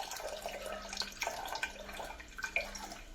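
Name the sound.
pouring tamarind water into cooking lentils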